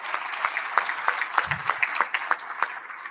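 An audience claps through a Hall of Fame induction ceremony in a new hall, a thin, fairly sparse patter with distinct individual claps standing out, moderately distant.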